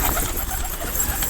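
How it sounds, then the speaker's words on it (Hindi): Pigeons coo softly and repeatedly over a steady wash of background noise, with no voices. "देखिए हमारे सारे कबूतर बैठे हुए हैं।"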